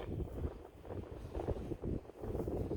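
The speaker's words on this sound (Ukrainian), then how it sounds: "Щоправда, вітер такий сильний сьогодні." Strong wind buffets the microphone in a continuous low roar, gusting and rumbling with no voices, during a metal-detecting search along the Dnipro riverbed.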